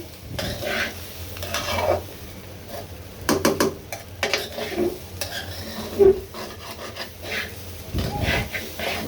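Rice for pulao is fried dry in a pan. Scraping strokes of stirring come in uneven bursts over a soft, low sizzle, close and moderately loud, with a few sharper clatters.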